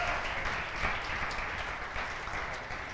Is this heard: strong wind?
no